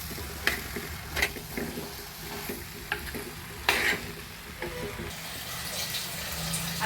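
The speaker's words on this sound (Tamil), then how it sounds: "இது எல்லாத்தையும் சேர்த்து நல்லா ஒரு பரட்டி விட்டுருவோம்." Broad beans and brinjal curry mixture is stirred in a pan, with soft scraping and clacking strokes at an irregular pace over a faint, steady sizzle, close up and fairly quiet.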